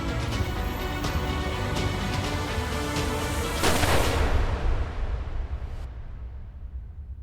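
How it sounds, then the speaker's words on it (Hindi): A gunshot rings out in a TV crime drama scene: a loud, sharp blast breaks over a tense background, then trails off in a fading decay into near silence. "आज मुझे गोली चलाने पर मजबूर मत कर"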